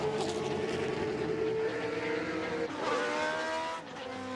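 1980s Cosworth DFV-powered ground-effect Formula One cars race past, their loud, high-pitched V8 engines screaming and shifting pitch as several cars pass close by, with no talk.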